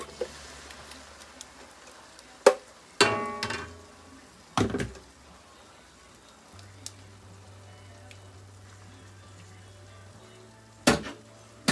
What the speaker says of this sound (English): now just gonna add it into a pot and let it fry